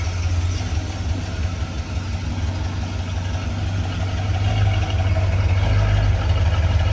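A 1971 Oldsmobile Cutlass S engine idles steadily, a loud, close, low rumble with an even pulse that holds throughout and builds slightly toward the end.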